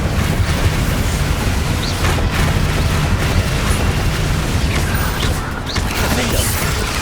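Confringo blasting-spell explosions in the video game Hogwarts Legacy, heard as a dense, loud, continuous roar of rumbling blasts with little pause between them.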